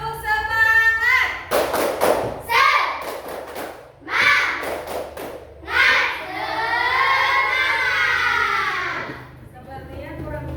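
Schoolchildren in an Indonesian classroom perform a rhythmic clapping cheer, several sharp bursts of claps in quick patterns, followed by a loud, sustained group shout near the end.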